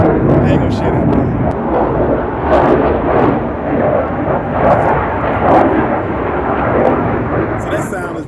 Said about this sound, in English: They got F-18s here.